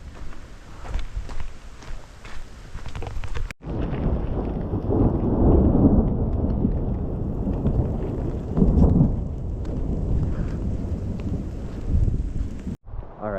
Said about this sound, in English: Alright, guess we walking in that storm.